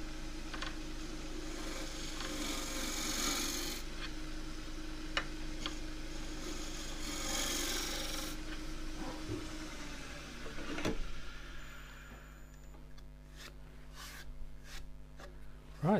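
A woodturning gouge cuts a natural edge bowl in claret ash on a lathe, giving a continuous rough rasping and rubbing scrape with a steady motor drone. Near the end the cutting stops, leaving sparse ticking taps over a quieter hum.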